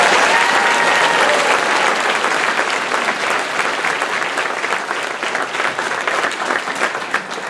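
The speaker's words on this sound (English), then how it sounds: "I think that deserves a round of applause." Strong, continuous audience applause fills a high school graduation ceremony, dense clapping from a large crowd that stays loud and slowly thins over several seconds.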